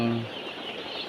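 Newly arrived broiler chicks in a poultry farm building fill the air with a dense, continuous chorus of high chirping, close and fairly loud over a brief moment.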